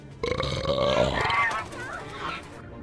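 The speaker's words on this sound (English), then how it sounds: "I got a pie belch coming that might break your windows" A long, loud, deep burp after eating pie rumbles for about two seconds, starting abruptly and tapering off, with a voice-like gurgling quality and no clear talk over it.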